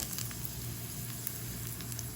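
Dried red chillies land in hot oil with already-popped mustard seeds, producing a dense, steady, close sizzle with faint crackles throughout.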